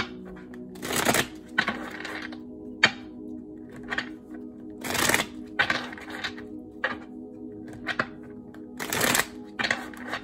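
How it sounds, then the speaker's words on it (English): A deck of tarot cards is shuffled up close in three loud, riffling bursts spread evenly, with quieter taps and card handling in between. "Let me give you one more shuffle because that was a mess."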